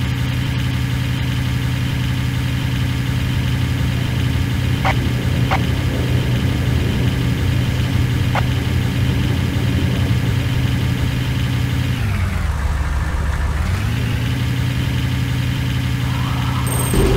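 A vehicle engine idles steadily in the game Renegade, a loud continuous low rumble with a brief dip and swell in pitch near the end, a few faint clicks scattered over it.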